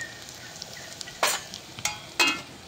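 Ground spices and turmeric are stirred into a sizzling khichdi tempering in a pot over a wood-fired chulha. A low steady sizzle sits under a few sharp scraping strokes of a spoon, with the louder scrapes near the middle and end.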